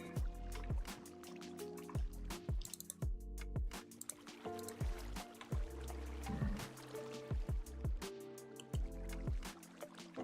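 Water being collected in a farming video game, heard as repeated liquid squishes and drips over a steady game background, with regular percussive game effects.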